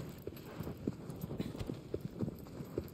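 A galloping horse in the video game Shadow of the Colossus, with quiet, rhythmic hoofbeats pounding along steadily at moderate distance throughout.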